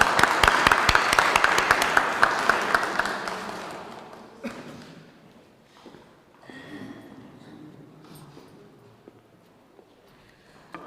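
Audience at a Women's Day celebration in Amersfoort, Netherlands, breaks into loud, dense applause that fades away over about four seconds, leaving scattered faint claps and quiet room noise.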